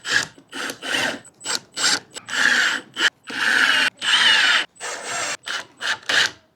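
A power drill drives screws while a modular mod is installed on a Lexus GX460, a series of loud, close whirring bursts of varying length with brief stops between them.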